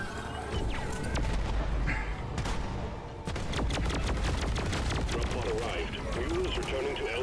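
Charged weapon shots from Deep Rock Galactic crack out in a dense run of loud, punchy blasts, broken by a brief lull, with players talking over the gunfire.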